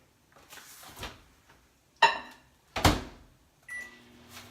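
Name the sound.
microwave oven door and running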